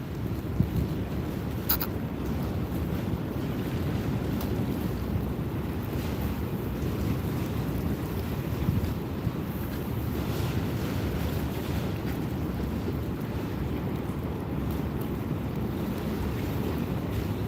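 Outdoors beside open water on a fishing trip, wind buffets the microphone in a steady low roar that goes on without pause, with a faint wash of water beneath it.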